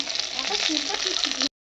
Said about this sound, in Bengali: মাছ ভাজা চলছে এখন